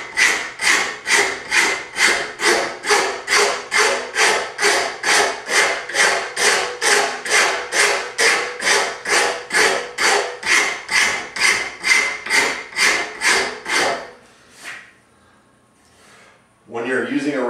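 A wood rasp shapes a wooden self bow during tillering, with about thirty even, rhythmic rasping strokes close up, then it stops and a voice speaks briefly.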